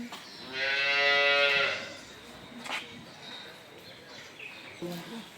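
A dairy cow on a farm near the Sharsha–Benapole border lets out one long, clear moo, followed by quieter farm background and a few faint shorter sounds near the end.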